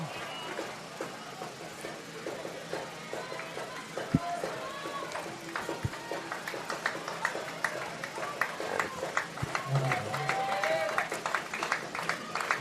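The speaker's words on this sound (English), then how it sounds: "Everybody on their feet cheering again." A college baseball crowd at an NCAA Tournament game between Tampa and Nova Southeastern, on its feet cheering and clapping, a continuous dense roar of voices and applause that swells slightly toward the end.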